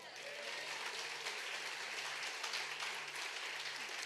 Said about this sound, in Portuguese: Podemos aplaudir ao Senhor?